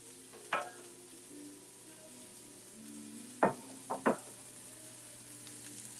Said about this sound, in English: So my asparagus are cooking.